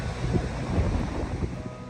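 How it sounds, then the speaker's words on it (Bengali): Big ocean waves wash in at Manly Beach, Sydney, under strong wind that buffets the microphone with a steady roar and rumble, with no one speaking. "তাই সমুদ্রের ঢেউ খুব বেশি।"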